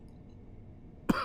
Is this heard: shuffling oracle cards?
no